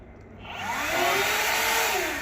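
Hilti Nuron cordless backpack vacuum starting up and running, a steady airy whine that rises in pitch and volume over the first second, then holds loud and close with no voices.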